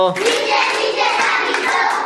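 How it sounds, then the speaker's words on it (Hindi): Claps made with the hands held down low in a children's clapping song, repeated at an even pace and heard close, mixed with continuous singing voices. "नीचे नीचे ताली दो"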